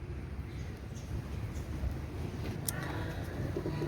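White golden pigeons, also called white commando, coo softly amid a steady, noisy background hum, with no distinct nearby voices.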